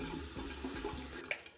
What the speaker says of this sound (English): Now what I'm going to do is I'm going to put some warm water in my face.